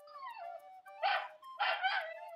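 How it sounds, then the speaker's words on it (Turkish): A dog whimpers with high, wavering whines, then lets out two louder drawn-out howling cries in close succession, heard up close in an otherwise quiet setting without talk. "Bu köpek sesi de nereden geliyor?"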